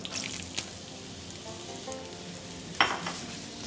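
Sweet potato pieces fry in olive oil flavoured with garlic, a steady close sizzle with a few soft clinks and one brief sharper crackle.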